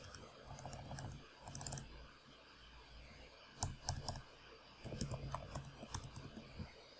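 Keys on a computer keyboard tapped in short bursts while code is typed, with brief clusters of crisp clicks separated by pauses, close and moderately quiet with no talking.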